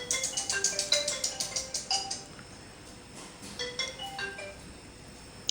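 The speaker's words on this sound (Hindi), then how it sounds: "देख फिर फ़ोन कर रहा है यार।" A mobile phone rings with an incoming call, a chiming melodic ringtone of quick bell-like notes playing twice with a short pause between, fairly clear over a quiet room.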